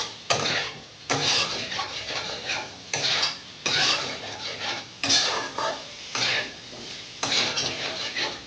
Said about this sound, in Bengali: দিয়ে নাড়বো, 5 থেকে 6 মিনিট নেড়ে এটাকে আমি ভাজবো।